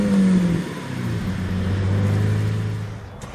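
The Kode 0 concept car's 700-horsepower engine accelerates hard, a loud, smooth engine drone rising in pitch across a few seconds and then easing off, with no talk over it.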